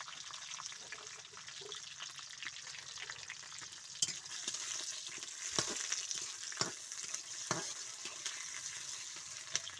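Bay leaf, cardamom, cinnamon and chopped onion frying in oil in a pot for mutton curry over a wood fire, giving a steady loud sizzle with a few sharp clicks and scrapes of stirring.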